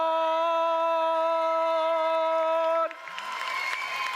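A crowd cheers for team Escher at a FIRST Tech Challenge European Premier robotics event. A steady sustained tone stops abruptly, then a broad wash of loud arena crowd noise rises and carries on.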